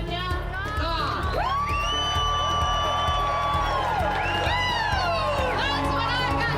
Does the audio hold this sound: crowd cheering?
yes